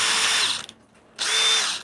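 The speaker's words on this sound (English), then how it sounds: "I've got the right size drill in it, and then I change the drill" A power drill fitted with a 6 mm bit whines at high speed while cleaning out bolt holes, running steadily, pausing briefly, then spinning up again close by.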